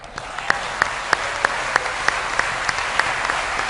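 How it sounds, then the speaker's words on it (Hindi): Dense applause from a large audience at a Ram Katha gathering, a steady wash of many hands with a few sharper claps standing out in a regular rhythm, loud and continuous for a few seconds. "और आखिर में तालियां मेरे श्रोताओं के लिए।"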